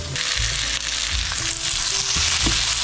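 Steady loud sizzle of tomatoes sautéing with onions, garlic and ginger in a pan, with intermittent scraping and crushing strokes of a spatula stirring and mashing the tomatoes, no talking.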